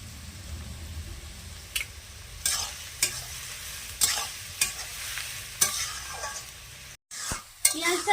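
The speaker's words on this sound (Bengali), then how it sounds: "লাল করে ভাজা হয়ে গেছে" Onions with salt fry in a pan under a constant sizzle, while a spoon scrapes and stirs in regular strokes about every second.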